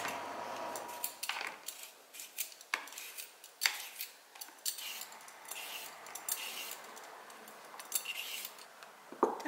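A knife cutting potatoes and other ingredients for miso soup on a board, with irregular crisp chopping taps and clinks of utensils and dishes, close and fairly loud.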